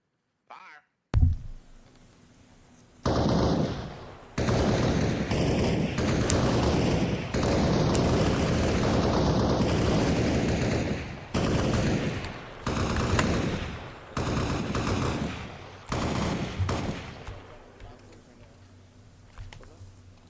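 Rifles firing on a range in the video game Arma Reforger, with long sustained bursts of loud, dense gunfire that stop and restart several times, then trail off near the end.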